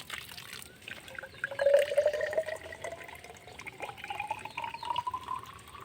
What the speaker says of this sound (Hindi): तो मैंने लगभग इसके ऊपर तक यहाँ पानी भर दिया है।